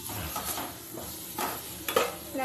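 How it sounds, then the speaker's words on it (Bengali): Spiced potatoes are stirred and sautéed in a pan, producing a close, moderate sizzle with rhythmic scraping strokes of a spoon, one sharper clink near the end. "এবার আমি এই মশলা আলু সব ভালো করে নেড়ে চেড়ে কষিয়ে নেব।"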